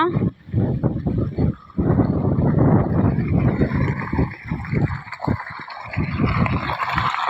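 Water gushes from a household motor pump outlet in a loud, close, steady rush that swells and dips unevenly, with wind buffeting the microphone.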